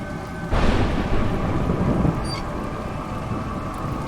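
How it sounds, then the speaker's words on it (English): A close, loud thunder crack bursts over steady rain in the video game A Juggler's Tale, then fades into continuous rainfall. "It's raining."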